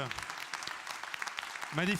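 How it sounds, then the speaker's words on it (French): Conference audience applauding, with scattered, fairly quiet clapping and a voice rising over it near the end. "je propose vraiment qu'on vous applaudisse très très fort"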